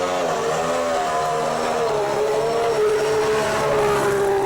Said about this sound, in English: Fernando Alonso eventually got out on track in the new Honda-powered car